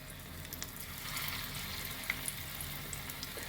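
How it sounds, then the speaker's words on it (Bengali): Spinach pakoras dropped by hand into hot oil in a small wok give a steady, soft sizzle with faint bubbling crackles and occasional small pops, close and continuous without any voices. "এবার আমি এগুলোকে পকোড়াগুলোকে হাতে করে করে ছাড়ছি"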